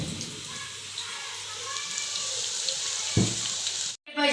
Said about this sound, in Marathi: आता मी हे असेच आणखी भजी तळून घेते